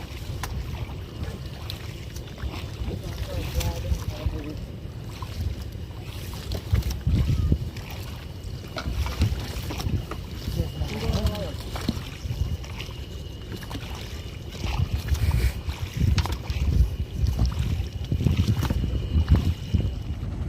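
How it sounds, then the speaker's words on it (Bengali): A fishermen's boat out mid-river with nets, heard as gusty wind buffeting the microphone with low rumbling, water movement and occasional knocks, steady throughout. "আজকে আমি নদীর মাঝখানে আছি, জেলেভাইদের নৌকায়।"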